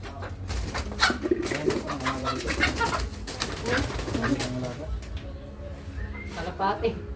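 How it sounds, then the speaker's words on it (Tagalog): A pigeon coos in low, repeated throaty notes outdoors on a mountainside, mixed with other bird calls and rustling handling noise, under the voices of people talking nearby. "Kalapati."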